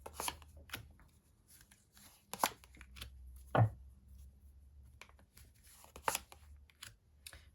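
Soft scattered slaps and rustles of tarot cards being laid down on a table, a few sharper taps among quiet handling noises.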